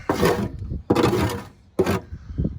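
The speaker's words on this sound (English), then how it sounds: "So I decided to come out here this morning before work and do some scraping." Three long scraping strokes with a hand scraper across the body of a Plymouth Cricket sedan, close and loud, separated by short pauses.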